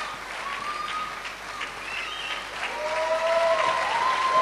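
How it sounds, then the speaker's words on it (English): Audience applause for the overall winner at the 2008 AATFA national final at Fox Studios, a soft, even wash of clapping from a crowd that builds slightly toward the end, with faint music-like tones underneath. "Give her a round of applause, ladies and gentlemen."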